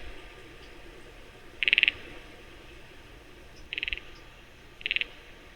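A sparkling gourami fish croaks in three separate short bursts, each a rapid train of crisp clicking pulses, heard faintly over a steady low background hum with quiet gaps between calls.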